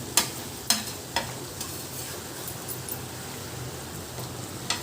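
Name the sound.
stirring mutton eral fry in pan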